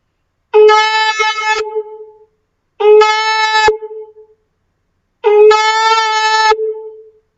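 Three separate shofar blasts (shevarim), each about a second long and each broken into a few short pulses, ring out loud and close with silence between them.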